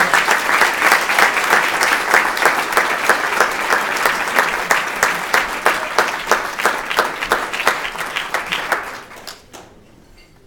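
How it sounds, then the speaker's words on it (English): A dinner audience at a county Democratic dinner gives a loud, sustained round of applause, dense clapping that thins out into scattered claps and fades to near silence at the end. "give your all of you a round of applause"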